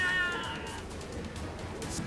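A cat gives a short, drawn-out meow in South Park The Fractured But Whole, heard once near the start over faint background game sound.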